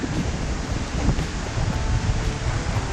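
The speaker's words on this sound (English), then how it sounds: "It's breezy enough" Breezy wind buffets across an oyster-shell shore near Fort Mitchell, a steady rough rushing gust with low rumbling surges, close and fairly loud with no talk.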